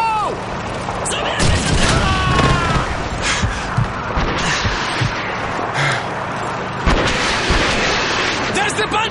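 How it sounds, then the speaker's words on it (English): MG42 machine gun fire in the Call of Duty 2 video game: loud sustained bursts mixed with booming explosions and battle noise, with voices calling out over the din. "Machine gun MG42!"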